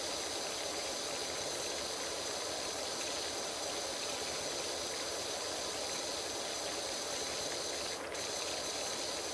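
A pressure washer in the PowerWash Simulator video game sprays water in a garden with a continuous, even, broadband hiss, uninterrupted and alone.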